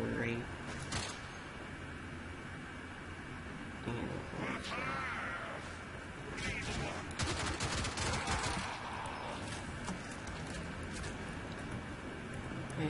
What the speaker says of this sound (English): I recommend this Kyrax gun. It has like no recoil whatever.